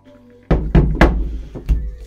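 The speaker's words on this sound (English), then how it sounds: "Bang it on your table." A film developing tank banged on a table several times, giving loud, close thumps with a few seconds between the first three and two softer knocks at the end.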